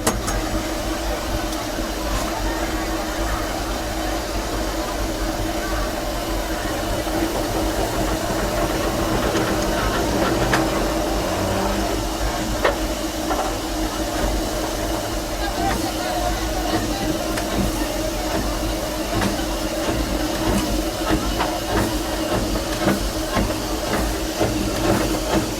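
A steam locomotive, originally an oil burner, hisses steadily and loudly up close, with a constant broad rush and faint mechanical knocks throughout; indistinct voices murmur underneath.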